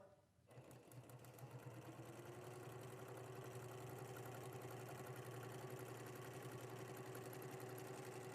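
A sewing machine runs steadily, stitching a quarter-inch seam through the mouthpiece fabric of a DIY face mask. A continuous mechanical hum with a fast rhythmic chatter starts after a brief pause and holds close and loud throughout.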